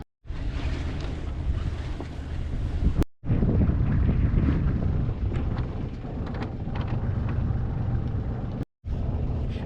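Wind blowing hard across a sailboat at anchor, a loud, continuous rumbling roar buffeting the microphone, cut by two brief silent gaps, with no voices.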